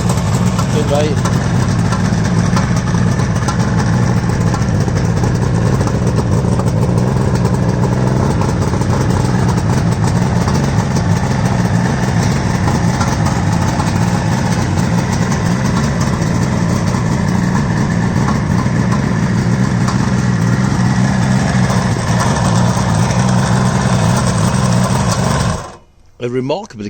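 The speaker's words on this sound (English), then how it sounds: "A remarkably quiet engine." A 1975 Kawasaki 750 H2 motorcycle engine idles steadily with a soft, even mechanical chatter for nearly half a minute, then cuts out abruptly near the end.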